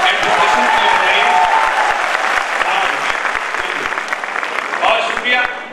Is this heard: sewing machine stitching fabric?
no